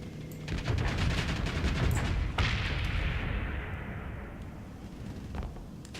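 Ship weapons in the space combat game Starsector fire in a rapid barrage of loud cracks and booms, a heavy blast near the middle swelling and then fading into a long rumbling tail.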